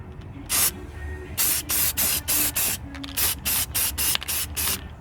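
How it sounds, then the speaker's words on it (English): A spray can of high performance enamel paint is fired in repeated short hissing bursts at a seized Craftsman mower deck, about a dozen close, loud sprays with brief gaps between them. "since this is high performance enamel or Stolium, don't have to wait to paint it"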